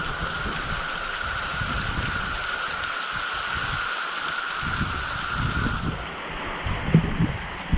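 Steady rushing roar of a waterfall on the Gibb River Road in the Kimberley, heard from a ledge just behind the falling water; a broad continuous wash of noise that dips slightly near the end with a few faint bumps.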